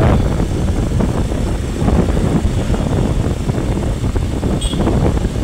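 Gusty wind buffets the microphone in a continuous low, rumbling roar that barely lets up.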